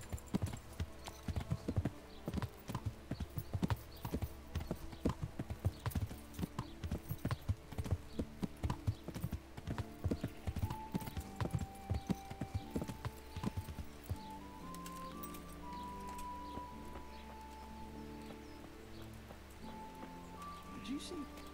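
Horse hooves clip-clop at a steady walking rhythm in the medieval video game Kingdom Come Deliverance, fading out partway as soft game music and ambient sound take over, with a voice talking at times.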